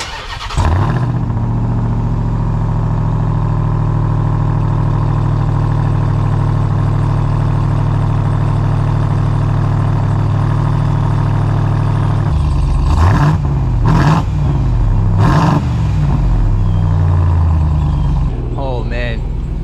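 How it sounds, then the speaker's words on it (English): Ram TRX pickup truck engine cold-starting, settling into a loud, deep rumbling idle close by, then several sharp throttle revs near the end. "so how about we go get a nice little cold start for you guys. Should sound pretty rowdy."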